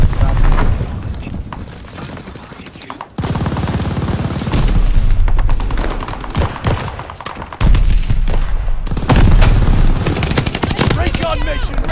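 Loud, dense gunfire from Call of Duty Vanguard on the Desert Siege map, with sustained automatic bursts and heavy booms filling the whole stretch, while players talk over the action.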